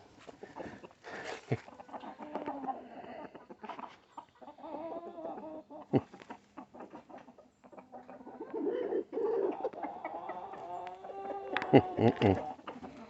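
Chickens and roosters cluck and murmur on and off nearby in a muddy coop, with a few sharper squawks, while a person talks quietly now and then.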